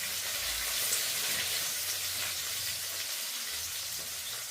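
Sliced onions and curry leaves frying in hot oil for a home-cooked kuzhambu curry; a close, steady, crackling sizzle that fills the whole moment without pause or speech.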